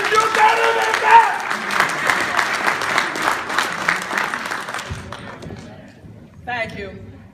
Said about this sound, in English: Would you all give this beautiful family a huge round of applause?